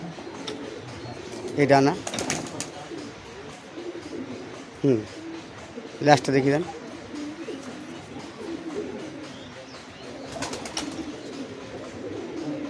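Giribaz and Teddy pigeons coo in a low, steady background murmur while someone talks in short bursts close by.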